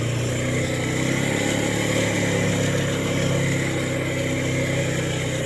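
Trail bike or four-wheeler engine droning steadily while riding on outdoor trails, a continuous loud mid-pitched motor hum with no pauses.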